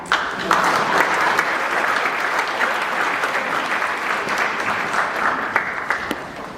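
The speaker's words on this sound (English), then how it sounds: "You can clap now" Applause fills a room at an Irish heritage and St. Patrick's Day ceremony as bronze Irish shoes are presented: loud, sustained, dense clapping from a sizable audience, with a few sharper individual claps standing out.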